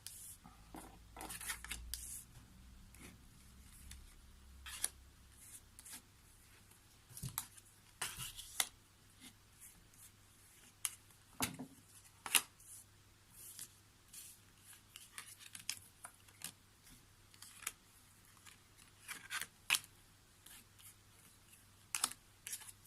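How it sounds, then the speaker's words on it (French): Tarot cards shuffled and picked by hand, heard as close, soft papery flicks, slides and taps in irregular bursts for over twenty seconds, quiet and with no talk. "Je vais aller choisir mes petites cartes."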